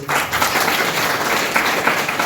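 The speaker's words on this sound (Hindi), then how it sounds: "एक बार ताली बजा दी जाए" An audience at a Gayatri Pariwar spiritual talk breaks into steady, dense applause, loud and sustained throughout with no talking over it.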